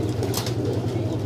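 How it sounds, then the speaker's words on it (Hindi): Highflyer pigeons in Lahore, a brief, soft burst of cooing and fluttering over a steady low background hum. "शहर का कबूतर है, बहुत अच्छा तगड़ा कबूतर है"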